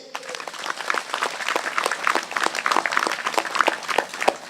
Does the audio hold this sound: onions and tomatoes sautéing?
no